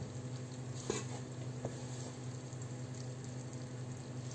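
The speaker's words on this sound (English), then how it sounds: "just use a wooden spoon and turn it this way so it will melt" Butter melting in a pan as a wooden spoon turns it, heard as a faint, soft sizzle over a low background hum with a couple of light knocks of the spoon.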